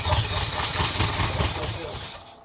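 A 1979 Ferrari 308 engine sputters unevenly on its first start after sitting, a rough, uneven low rumble with irregular pulses that fades toward the end, close and fairly loud.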